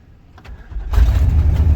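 A 1995 Chevrolet Silverado 2500 truck jump-started from a booster box: a brief starter crank, then the engine catches and settles into a loud, rumbling idle close by.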